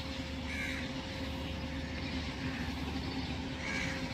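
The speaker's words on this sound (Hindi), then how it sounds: "यहाँ ढेर सारे पक्षी बैठे हुए हैं" Crows caw at Delhi zoo, two faint, distant calls several seconds apart over a steady outdoor hum of park background noise.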